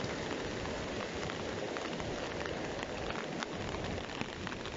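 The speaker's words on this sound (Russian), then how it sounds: "Вчера хорошая погода была, сегодня пошел дождь." Rain falls outdoors over a wet grass field, a soft continuous patter and hiss of drops at a moderate, even level throughout.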